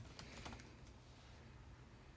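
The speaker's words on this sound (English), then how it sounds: "So hit enter, type in your password" A person types a password on a computer keyboard, a few quick key taps near the start and then a low steady room hum.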